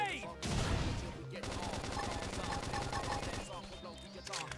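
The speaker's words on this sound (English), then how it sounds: "Flame grenade." Flame grenade attack in Xenoblade Chronicles, a loud burst of explosive crackling followed by rapid rattling impacts and flaring battle effects, close and continuous, with game voices mixed in.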